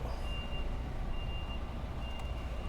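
A truck backing up gives out a steady, repeating reversing beep, each tone sounding at an even pace over a loud, continuous engine rumble, with no talking.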